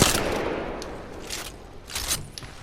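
Gunfire in the battle royale game Apex Legends: a few short bursts of sharp shots, loud at the start and again near the end, separated by quieter stretches of game noise, with no talking.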